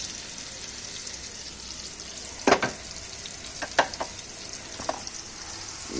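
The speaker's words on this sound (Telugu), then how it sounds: "ఇవన్నీ కాకరకాయ ఎగుతుంది చూడండి, వేపుతున్నాము." Whole bitter gourds fry in a pan with a steady hiss of oil throughout, broken by a few louder scrapes and stirs spaced a second or so apart.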